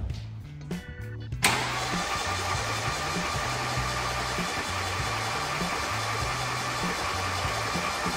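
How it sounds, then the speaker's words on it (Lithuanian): A VW Golf Mk2 engine is cranked with the starter in short whirring bursts. It then catches and settles into a steady, loud, rhythmic idle that runs to the end. "Starteriu kelias sekundės pasukti variklį."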